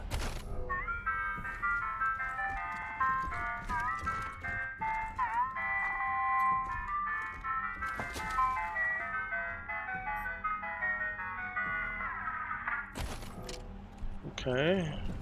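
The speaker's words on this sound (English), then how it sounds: "Okay, an ice cream truck." Ice cream truck in the video game Wasteland 3 plays a steady, loud jingle of bright tonal melody lines throughout, with brief clattering game effects around it and a burst of noise near the end.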